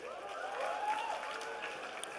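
Graduates and guests at a School of Commerce convocation ceremony clapping, a faint, distant patter of applause with a murmur of voices underneath.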